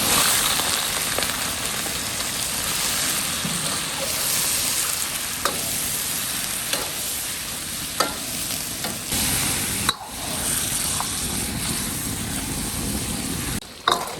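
Duck meat stir-fried in oil in a hot wok sizzles loudly and steadily, with a scraping spatula clanking and tossing the pieces at intervals and no talking.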